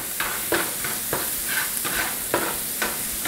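Vegetables sautéing in a hot pan for a stuffed portobello filling, a steady sizzle broken by roughly eight regular scraping stirs, close and fairly loud with no talking.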